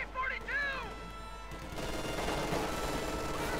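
Machine gun fire crackles in Company of Heroes 2, a 2v2 match, as sustained rattling battle noise after a short burst of whistling effects at the start, with a commentator's voice faint underneath.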